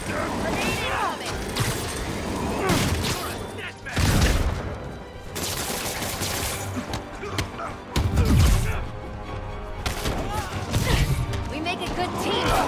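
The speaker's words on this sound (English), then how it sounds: "Grenade incoming!" Grenade blasts and bursts of gunfire in the superhero action game Marvel's Spider-Man, heavy booms and rattling shots recurring every few seconds, loud and close, with voices talking over the combat.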